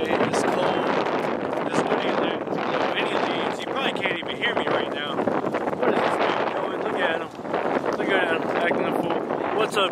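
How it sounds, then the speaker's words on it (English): Strong wind buffets the microphone in a constant loud roar, with people talking underneath. "It's super windy out here today."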